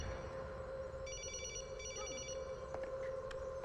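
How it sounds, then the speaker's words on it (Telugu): A telephone rings in a tense gangster confrontation scene, its trilling bursts repeating in two clear rings over a steady background hum, with no one speaking. "కులకర్ణి ఫోన్ అనుకుంటా."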